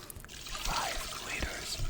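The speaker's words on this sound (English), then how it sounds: "we're going to add some cold water to the pot" Cold water pours into a cooking pot, a close, continuous trickling splash that rises and thickens as the stream runs, with faint background noise and no talking.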